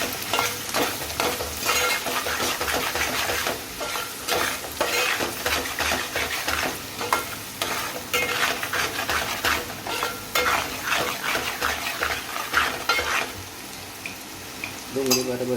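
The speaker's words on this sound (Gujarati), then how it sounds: "ડુંગળી બરાબર શેકાઈ જાય છે." Onion fries in a pan with garam masala, turmeric, coriander-cumin and salt. Steady loud sizzling runs throughout, broken by frequent scraping stirs and metallic utensil clinks against the pan.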